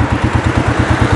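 An ATV engine idles through its exhaust at night, giving a steady, close, low throbbing pulse with a slightly clattery, rhythmic beat and no voices.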